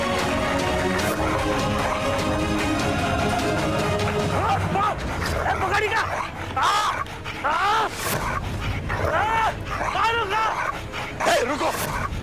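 A dog yips, barks and whimpers in a tense scene, the sharp cries growing more frequent toward the end while voices talk over and around them.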